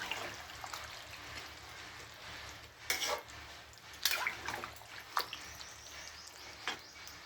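A little water is poured into a cooking pan after the spices are fried, giving brief splashes and sizzling bursts over a low background hiss, close by with no talk.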